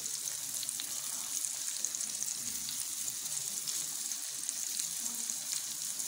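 Tomatoes roasting with garlic and salt in a pan give off a steady, close sizzle and frying crackle that holds evenly throughout, with no talking.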